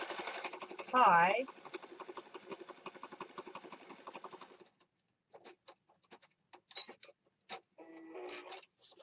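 A sewing machine stitching around the pages of a mixed-media junk journal, a close rapid mechanical whirr that stops and restarts in short bursts, with someone briefly speaking over it.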